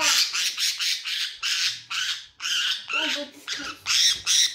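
A pet budgie squawks in a rapid run of harsh, close, loud calls, about a dozen bursts in quick succession with brief gaps between them.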